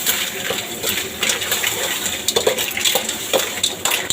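Blood cockles are stir-fried in a pan with fish sauce and seasoning powder. A spatula scrapes and clatters against the metal in quick irregular strokes over a constant loud sizzle, close up, with no talking.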